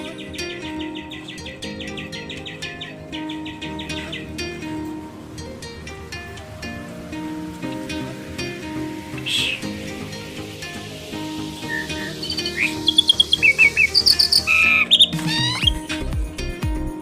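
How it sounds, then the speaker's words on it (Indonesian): Birds chirp and call throughout a small mini zoo in Jember, East Java, with many overlapping tweets over a busy ambient background and a sharper burst of calls near the end. "Terus kayak burung-burung di sini juga ada teman-teman."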